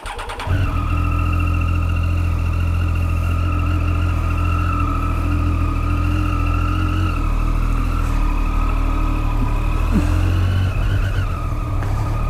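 Track-ready Triumph Daytona 675R motorcycle with no gear shifter, engine held in second gear, a loud steady drone at nearly constant pitch throughout, no talking.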